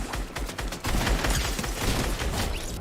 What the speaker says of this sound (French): Je spam de grenades